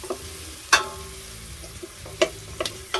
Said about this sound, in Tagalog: Saute it, let it sweat yung sibuyas natin